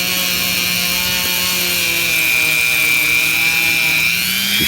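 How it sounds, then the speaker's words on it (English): A rotary polishing wheel hums steadily at close range against a vintage Ever Ready shaving brush, a continuous loud whir with a faint rubbing texture and no speech. "start rotating this and polishing it"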